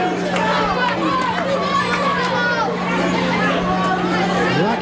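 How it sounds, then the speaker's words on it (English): Wrestling crowd at a New England pro wrestling show yelling and chattering in a loud, continuous babble, with a steady hum running beneath and a commentator's voice over it. "You can hear the crowd behind it yelling"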